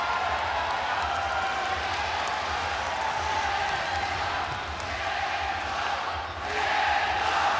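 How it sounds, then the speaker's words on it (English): Japanese fight crowd chanting in a Tokyo arena during a ONE Championship bout, a dense steady roar of massed voices filling the hall with rising swells of cheering. "Listen to the Japanese, they're chanting in Tokyo for Shinzo Ikeda."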